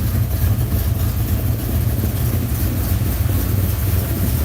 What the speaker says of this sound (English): if you hear this at the servo, you'll think, what the Christ's making that noise? And all you'll see is an old Jag.